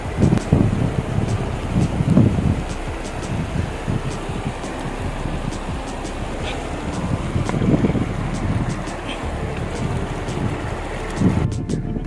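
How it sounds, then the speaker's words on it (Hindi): A big mountain river rushes through Yumthang valley in North Sikkim with a steady, broad roar of whitewater, constant and close throughout, with a few faint voices and bumps now and then. "और ये देखिए नदी, और इसका साउंड सुनिए, देखिए कितना बड़ा है वो, पहाड़ से आ रहा है नदी"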